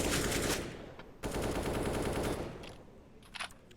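M4A1-S gunfire in Counter-Strike, loud sustained bursts of rapid suppressed shots in two long strings, then a short burst after a pause, with no talk.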